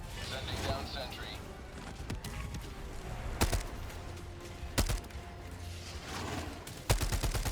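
A rocket sentry in Helldivers 2 fires sharp repeated bursts amid battle noise, several loud cracks spaced irregularly over constant rumble, with a voice talking throughout.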